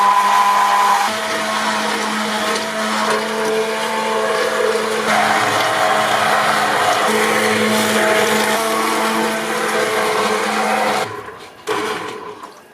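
An electric blender whirs continuously, mixing a homemade natural soap batter with a loud, steady motor drone that cuts out briefly near the end before a short restart.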